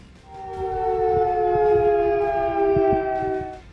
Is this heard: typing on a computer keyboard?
no